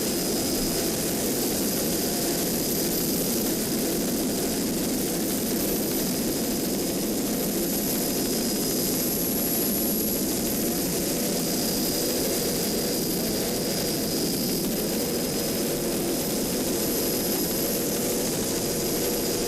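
Class 5 offshore racing powerboat roaring past during a 2007 offshore race, a loud, continuous engine drone that holds steady throughout with no speech.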